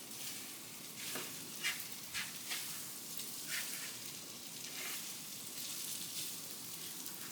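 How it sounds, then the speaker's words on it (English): Scrambled eggs tossed into late-night ramen noodles with tongs, a soft continuous sizzle with scattered crackles and clicks of the tongs, fairly quiet and with no talk. "Take the tongs. We're going to incorporate the eggs into the noodles."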